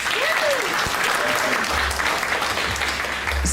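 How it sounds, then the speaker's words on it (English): Sustained applause from a live audience welcoming a guest at a podcast recording on robotics and AI, a dense steady clapping that fills the whole stretch, with some voice-like tones and murmurs beneath. "Can we please have a round of applause"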